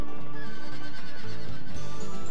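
A horse neighs loudly over dense game music during a running horse battle in the video game Wild ARMS 3, a brief whinny from the game soundtrack with no talking.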